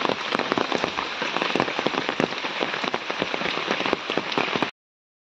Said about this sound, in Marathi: आणि आता आज पाऊस पडतोय मस्त।